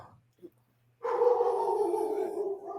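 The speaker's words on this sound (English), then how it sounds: "we're getting the dogs all riled up" Dogs barking in a quick, excited burst that stays loud and steady, with no speech over it.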